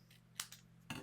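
Scissors trimming paper tails off a layered card, two quick, faint snips close by in a quiet room.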